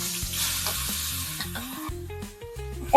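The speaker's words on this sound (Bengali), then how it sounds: "আর যে কটা মাছ আছে এই কটা মাছ ভেজে নেব।" Koi fish fry in hot mustard oil in a wok, making a steady close sizzle under loud background music throughout.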